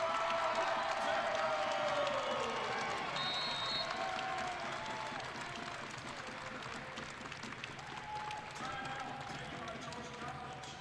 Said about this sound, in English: he's going to check out and get a big round of applause